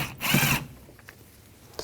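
A Phillips screwdriver backs a screw out of a 2004-10 Toyota Sienna door trim, a brief grinding burst of close metal-on-plastic scraping followed by faint clicks and a small tap.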